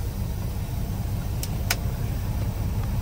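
A truck's engine rumbles steadily and close by as the vehicle sets off, a low continuous drone with a couple of brief faint clicks over it.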